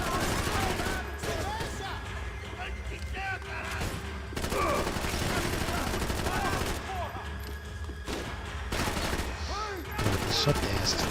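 Dense, sustained gunfire in the shooter game Max Payne 3, with rapid bursts and shots layered over a busy, loud mix for several seconds.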